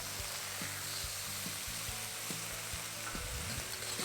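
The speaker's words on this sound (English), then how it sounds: "Add in the prepared sauce." Prepared sauce goes into Chinese broccoli (gai lan) stir-frying in garlic-flavoured oil, producing a constant faint sizzle with soft, regular spatula knocks and scrapes against the pan.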